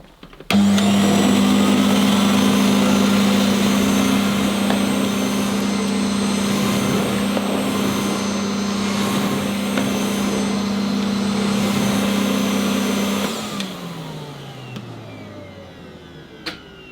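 Miele S240i vacuum cleaner running on carpet: a loud, steady motor drone that starts abruptly, holds for about thirteen seconds, then winds down with a falling pitch as it switches off.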